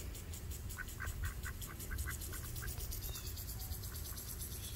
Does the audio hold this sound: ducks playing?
yes